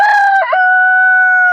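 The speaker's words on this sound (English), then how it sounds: "So all roosters crow." A single rooster crows loud and close in one long, sustained cock-a-doodle-doo call, with a brief break partway through before the final drawn-out note. No other sounds or voices.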